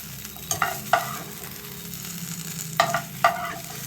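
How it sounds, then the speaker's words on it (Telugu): Okra pieces fry in an oil-coated pan for a masala gravy curry, a constant sizzle broken by several sharp scraping clatters from stirring. "ఇలా వేయించుకోవడం వల్ల మనకి ముక్క విరగకుండా వస్తుందండి"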